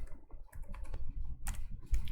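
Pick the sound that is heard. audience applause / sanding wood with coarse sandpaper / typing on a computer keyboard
typing on a computer keyboard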